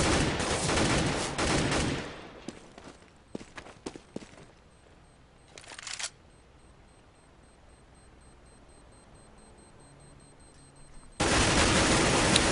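Counter-Strike gunfire on the map dust_2, including Glock pistol shots: a loud opening burst, then scattered single shots, a quiet stretch with faint footsteps, and a final heavy burst of sustained fire.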